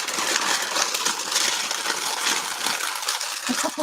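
Packing paper is crumpled and crinkled while bowls are wrapped for shipping, a dense, continuous close-up rustle and crackle with no pauses.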